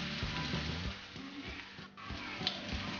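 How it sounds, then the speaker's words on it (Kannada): Marinated paneer pieces shallow frying in about three tablespoons of oil in a pan, giving a quiet, continuous sizzle with soft crackles and low background hum. "20 ಮಿನಿಟ್ಸ್ ಮ್ಯಾರಿನೇಟ್ ಆಗಿರೋ ಪನ್ನೀರ್ನ ಶಾಲೋ ಫ್ರೈ ಮಾಡ್ಕೋಬೇಕು"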